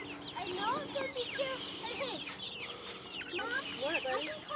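Hens at a new chicken tractor on a homestead, with many overlapping clucks and squawks coming thickly and irregularly, close and lively, while people talk in the background.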